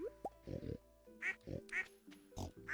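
Pigs oinking in the farming game Stardew Valley, several short snorting grunts in a loose irregular sequence, moderately close and fairly quiet, with soft game tones in the background.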